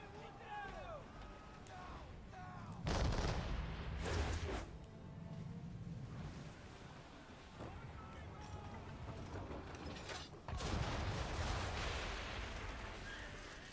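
Heavy naval gunfire pounds the Belladonna ship in a video game, booming blasts at intervals with rumbling aftermath, mixed with ongoing battle noise and voices.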